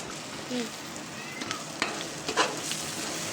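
Spices and onions toast in a large pot of oil, giving a moderate steady sizzle with occasional scrapes and taps of stirring, heard close with no voices over it.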